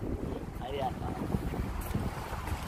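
Wind buffets the microphone as a small boat moves over water along a corniche, with soft splashing and the low drone of the ride, a voice faintly present.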